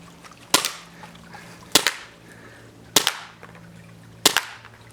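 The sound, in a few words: Novritsch SSP-18 airsoft pistol firing four shots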